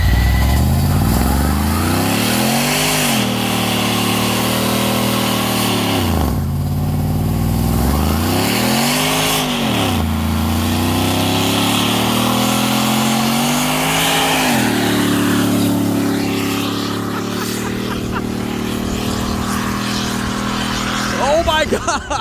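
Supercharged sleeper work van doing a burnout, the engine repeatedly revving up and falling back in loud sweeping surges with tire roar and shouting voices over it.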